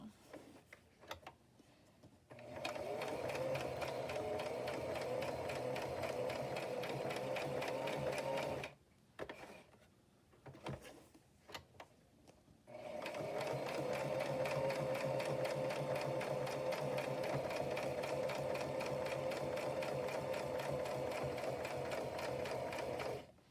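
A sewing machine stitching patchwork fabric tags runs in two long, steady buzzing bursts, separated by a short pause with scattered clicks as the fabric is adjusted.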